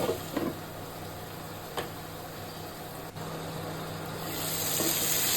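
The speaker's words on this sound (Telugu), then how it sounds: "కోసి పెట్టుకున్న గుమ్మడికాయ ముక్కల్ని ఇందులో వేసేద్దాం" Pumpkin pieces cook in a pan, giving a steady soft sizzle with a few brief scraping stirs early on and a brighter rise in hiss toward the end, fairly faint with no talking.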